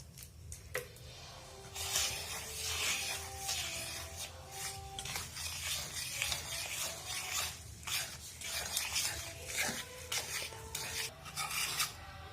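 A spoon scrapes and stirs batter in a bowl as water goes in, with rhythmic rubbing and clinking strokes close by, sometimes pausing between bursts.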